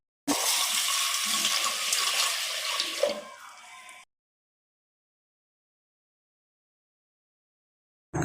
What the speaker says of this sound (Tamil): கொஞ்சமாக தண்ணி சேர்த்து கழுவிக்கலாங்க.